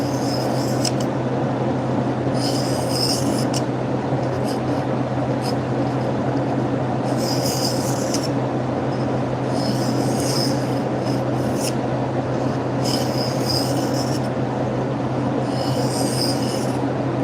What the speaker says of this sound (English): We're just doing a little sharpening here on my new Wicked Edge sharpening system.